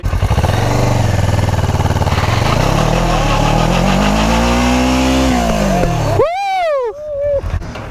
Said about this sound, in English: Yeah! Burnout! There it is, nice.